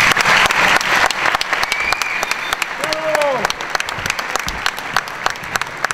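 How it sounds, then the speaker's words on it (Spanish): A crowd claps loudly at a gathering honoring a mayor, sharp dense applause that gradually thins into scattered claps, with voices audible underneath. "para quien pida un fuerte aplauso"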